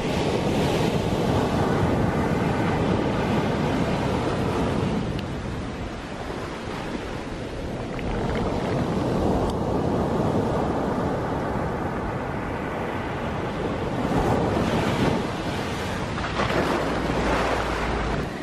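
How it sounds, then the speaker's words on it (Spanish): Ocean waves crash and roar continuously at Cocoa Beach, Florida, with heavy wind noise buffeting the microphone, loud surges rising and falling, no talking. "lo fuerte que rompen las olas ahí"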